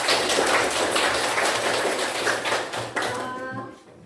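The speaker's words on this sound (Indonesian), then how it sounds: "Beri tepuk tangan untuk Shalwa, Cinta dan Filipus" A classroom of students claps for three classmates recognized for karate achievements, a dense, steady patter of many hands filling the room, fading toward the end.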